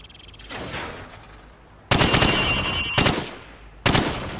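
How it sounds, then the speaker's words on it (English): Bursts of automatic rifle fire from the hip at targets in Call of Duty 4: Modern Warfare, with three separate loud volleys, each ending in a ringing decay, and a quieter stretch of gunfire between them. "shoot at the targets while firing from the hip"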